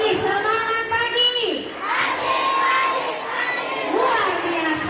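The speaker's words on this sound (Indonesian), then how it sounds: "beri tepuk tangan yang meriah untuk Mulyati Azura." A school audience at a junior high literacy performance in Kendari, Indonesia, cheers and shouts loudly, with many children's voices rising and falling across the crowd.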